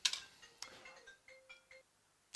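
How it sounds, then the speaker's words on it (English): A mobile phone rings with a short electronic ringtone of several bright chiming tones and a sustained note, fairly faint and alone in a quiet room. "Next part of the process is answering my phone."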